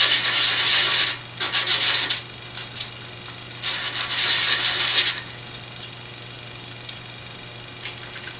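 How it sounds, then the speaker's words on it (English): A bone guitar nut for a First Act Stratocaster being thinned on sandpaper, steady abrasive rasping strokes in a few long bursts, close and loud, then fading to quiet hiss. "I am thinning down the mass of the bone now to fit into the bone slot"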